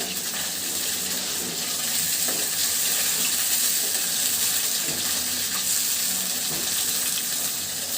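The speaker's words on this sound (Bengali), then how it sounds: "মাছটা এরকম চেপে চেপে করে ভাজি করব।" Fish frying in a hot pan as it is pressed down, a steady loud sizzle and crackle with a wet, hissing texture running continuously throughout, no voices.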